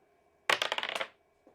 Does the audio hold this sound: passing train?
no